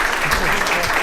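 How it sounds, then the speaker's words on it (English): Audience applause at a VR open house presentation, a brief burst of close, continuous clapping with a murmur of room noise beneath it. "Applause is good too."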